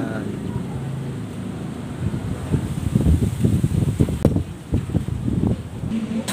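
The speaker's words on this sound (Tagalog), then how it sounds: "lakas din ng hangin" Gusty wind buffets the microphone, with rustling and rumbling noise rising and falling throughout, and faint voices underneath.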